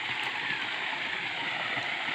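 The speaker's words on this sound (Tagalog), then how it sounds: "Diligo naman tayo sa sapang malinaw." Clear creek water flows steadily, a continuous broadband rush with a close, even wash and no other sounds standing out.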